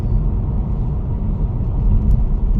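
A car drives through city streets in Japan, its engine and road rumble steady and loud close inside the cabin with no talking.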